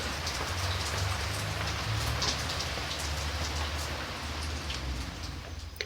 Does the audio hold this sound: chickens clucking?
no